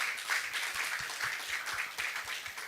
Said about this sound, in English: we owe the young women on this panel a huge round of applause